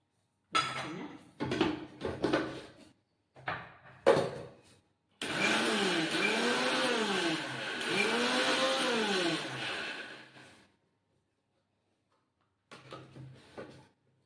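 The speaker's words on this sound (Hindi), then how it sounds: "इसको मैं मिक्सी में चलाकर थोड़ा बारीक और कर लूँगी" A kitchen mixer grinder whirs steadily for about five seconds as it grinds semolina in its jar, the motor tone rising and falling, with handling clatter of the jar before and quiet clinks after.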